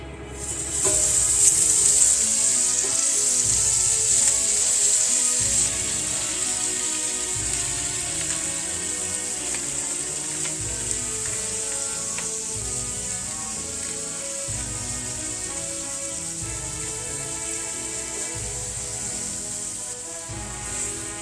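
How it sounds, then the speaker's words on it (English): Chopped mustard greens cooking over medium heat in a pan, a soft continuous sizzle with repeated low scraping and stirring sounds throughout, no talking. "So now it's time to add our chopped mustard greens."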